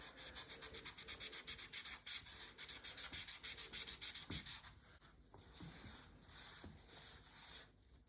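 Rust being rubbed off the metal front forks of a Cybex Balios stroller, a steady run of rhythmic scrubbing strokes, close and fairly quiet, with no talking.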